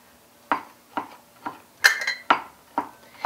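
Knife work on butter for hot cross buns in a home country kitchen: seven or so sharp, evenly spaced taps of a blade striking a board or dish, close and clear, with a faint clink between, no talking.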